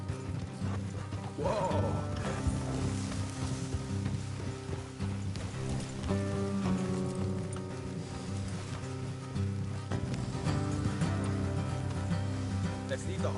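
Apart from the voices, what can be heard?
horse hooves clip-clopping in video game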